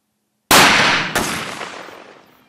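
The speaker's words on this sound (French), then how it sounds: "Voilà, 2 tirs, là c'est une munition très rapide" Two sharp blasts from an ELOS Traqueur 12-gauge semi-automatic shotgun firing fast ammunition, the first at about half a second and the second roughly 0.7 s later, each loud and close with a long echoing decay and no voices.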